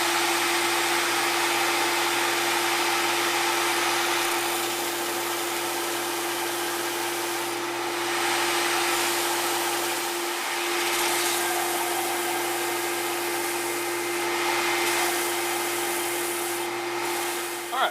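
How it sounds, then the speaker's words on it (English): A belt sander runs continuously at close range, smoothing wood for a guitar neck, with a steady loud whir and hiss and faint scraping shifts as the wood is pressed to the belt. "I'm going to clean all this up a little bit more on the belt sander"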